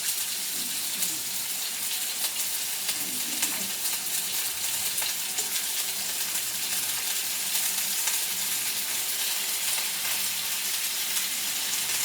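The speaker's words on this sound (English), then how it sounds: "We got a sizzle." Steaks sear in a hot cast iron skillet, giving a loud, steady, hissing sizzle that carries on evenly without pause.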